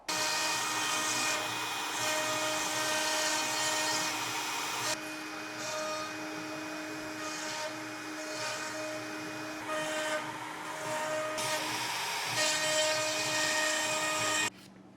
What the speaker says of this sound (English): We cut this in using a CNC router in this case because I have one